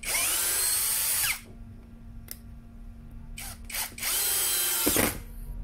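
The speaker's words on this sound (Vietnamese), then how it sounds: "để cho nó sang cái độ khoan." A Toyoko cordless drill set to drill mode whirs at high speed in two loud bursts, with quieter clicks and handling noise between them, close by and with no one talking.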